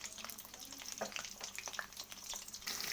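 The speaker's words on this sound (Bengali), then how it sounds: "এরপর আমি আলুগুলোকে ভেজে নেব" Potatoes coated in ginger-garlic paste and a little salt frying in oil, making a dense, steady crackle and sizzle up close, with small stirring clicks and no talking.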